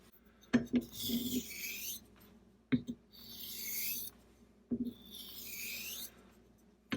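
An Artrazor straight razor has its bevel reset on a stone: three slow, soft rasping strokes with light taps between them, quiet and close.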